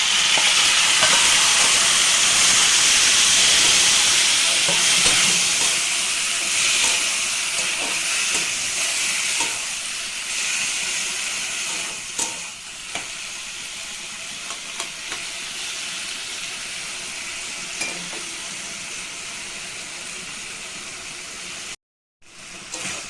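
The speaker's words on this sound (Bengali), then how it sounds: "এটা আমার একটু ভাজা ভাজা হয়ে গেছে আলুর সঙ্গে।" Drumstick flesh fries with boiled potatoes in a pan, a broad steady hiss that is loudest at first and gradually fades, with a few faint clicks of utensils and a short cut near the end.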